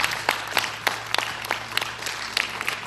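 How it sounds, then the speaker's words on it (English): A school audience claps in scattered, uneven bursts: a handful of distinct, separate claps rather than a dense roar, over a low steady room hum. "give that round of applause"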